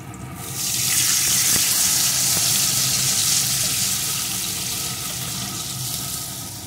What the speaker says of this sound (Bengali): এখন আমি এর ভিতরে দিয়ে দেবো একটু জল